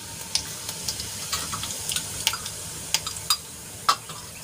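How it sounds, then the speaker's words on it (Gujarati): Cumin seeds crackling in hot oil in a kadai, a faint steady sizzle broken by scattered sharp pops and ticks, with no voices. "તેલ ગરમ થાય એટલે એમાં આપણે અડધી ચમચી જેટલું જીરું એડ કરીશું."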